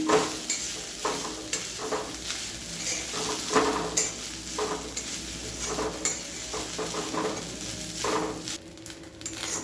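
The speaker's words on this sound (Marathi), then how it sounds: "आता आपलं खोबरं घालून झालेलं आहे हे छान तुपामध्ये आपण फ्राय करून घेऊया" Freshly grated coconut frying in ghee for traditional wheat-flour modak: a steady close sizzle with scraping strokes of a spoon against the pan recurring every second or so, no voices.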